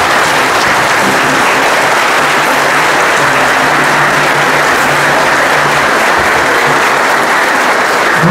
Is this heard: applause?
yes